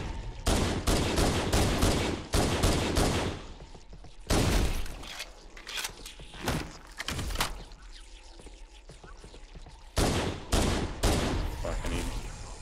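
Rapid pistol gunfire in Halo: Combat Evolved, loud sharp shots in quick bursts with brief pauses between volleys, alongside game effects.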